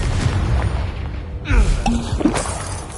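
A fire-spell explosion in Hogwarts Legacy gives a sharp crash with a shattering burst midway. It sits amid ongoing game effects and a low rumble, fairly loud and close.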